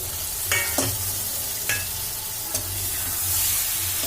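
Fish pieces frying in oil in a pan, a steady low crackle broken by a few sharp stirring scrapes and clinks, close and moderately loud with no talking.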